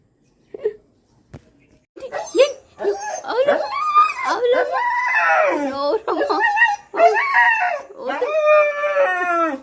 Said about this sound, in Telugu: కొత్త కుక్కలు వచ్చినాయా?